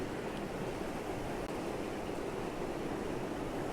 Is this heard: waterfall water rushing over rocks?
yes